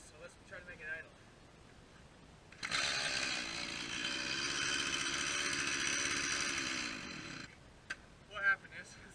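A small chainsaw engine being coaxed to idle runs steadily at a high, buzzing pitch for about five seconds before cutting out, with scattered faint clicks and bumps before and after.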